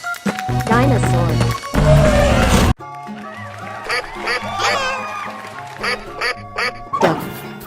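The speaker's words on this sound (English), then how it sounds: "Duck." A loud cartoon duck quacks in an animated escape-room guessing game. Bright quacks come in quick bursts over playful music and other effects.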